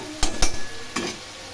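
A spice paste of garlic and onion sautés in a pan for rohu fish curry, with a steady sizzle broken by a few quick scrapes and knocks of the spatula.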